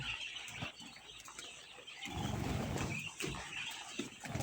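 Caged quail flutter their wings in quick, soft bursts and peck nearby. The sound is faint and grows busier partway through.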